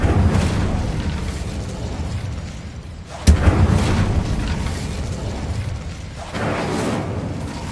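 Confringo blasting-spell explosions from Hogwarts Legacy boom loudly up close, one sharp blast near the middle and another swell toward the end over a rumbling roar.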